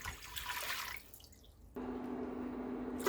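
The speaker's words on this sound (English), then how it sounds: "Put a little of water." Water poured into a cooking pot for rice pudding, a soft splashing trickle in the first second, a brief quiet gap, then a steadier, fuller stream running until the end; no talking.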